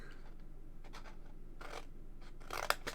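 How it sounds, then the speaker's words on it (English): Scissors cutting a mitre into material, heard as quiet, close snips and scratchy slicing strokes in short bursts, with a sharper cut near the end in an otherwise quiet room. "I'm going to get my scissors"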